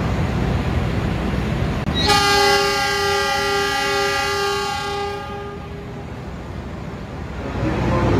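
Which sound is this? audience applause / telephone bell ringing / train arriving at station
train arriving at station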